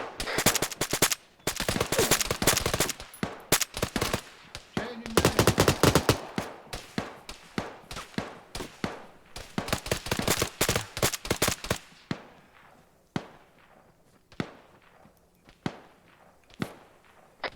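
Gunfire in a military video game: dense, loud bursts of automatic fire crackle for the first stretch, then thin out into scattered single shots and short volleys that echo at a distance.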